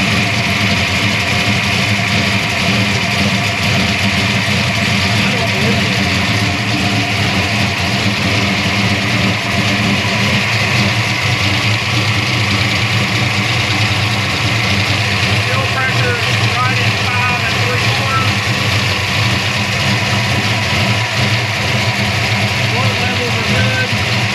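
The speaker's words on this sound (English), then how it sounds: "It's idling, it's warmed up, 160 degrees." A warmed-up V8 engine with twin Edelbrock VRS-4150 carburetors on a tunnel ram intake idles continuously with a low, even hum throughout, with no revving or change in pitch.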